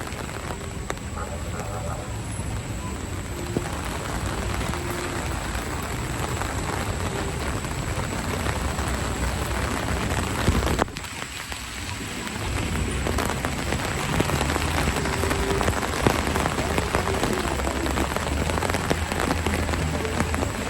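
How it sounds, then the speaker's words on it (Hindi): Heavy rain pours onto night streets in Bishkek, a loud, constant hiss and patter of drops on pavement with no break, rising slightly later on. "हैवी रेन हो रही है।"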